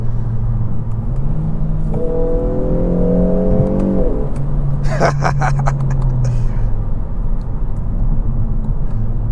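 A 2023 Kia Forte GT2 with its 1.6 turbo engine and dual-clutch transmission accelerates hard from inside the cabin, revs climbing through a quick paddle upshift with a brief exhaust crackle, then settling into a steady whir.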